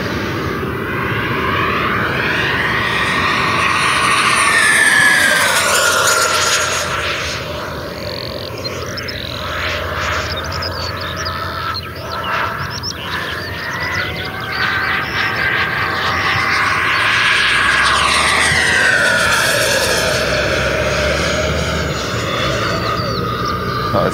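A radio-controlled Freewing Avanti electric ducted fan jet at 3.2 kW flies past, its loud turbine-like whine rising and falling with Doppler sweeps as it passes overhead twice, continuous and alone.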